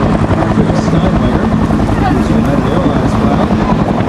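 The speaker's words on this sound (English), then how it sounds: "approaching to your left is an AH-1 whiskey model Cobra" An AH-1W Cobra attack helicopter flies past at an airshow, its loud, steady rotor chop and engine roar filling the whole clip with constant low thumping pulses; a voice can be heard under the noise.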